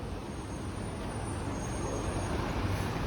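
A city bus rolls along rain-soaked Wilson Avenue in North York, Toronto, with a steady roar of engine and tires hissing through wet pavement, moderately close and continuous amid general traffic noise.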